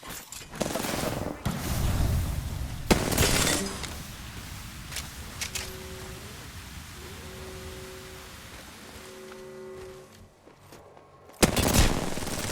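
Apex Legends gunfire comes in loud clustered bursts at the start and again near the end, with a quieter stretch of game noise and electronic tones between them.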